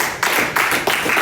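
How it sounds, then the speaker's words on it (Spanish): A church congregation claps together at a sermon, loud broadband bursts of applause swelling in waves that rise and fall across the short stretch, with no speech over it. "Dele palmas a Cristo."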